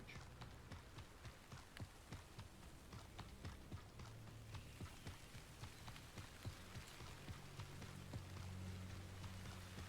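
Rain falling in the video game Hogwarts Legacy, a quiet steady patter with soft scattered drops over a low hum, faint throughout.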